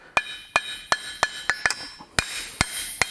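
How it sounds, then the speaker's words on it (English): A rounded face hammer strikes a forged metal Art Deco bookend to texture its surface, about eleven sharp, ringing taps in an uneven rhythm, close and alone. "just random taps with this nice rounded face hammer"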